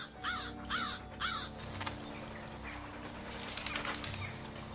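A crow caws three times in quick succession close by at the start, followed by a stretch of low outdoor background noise with faint rustling.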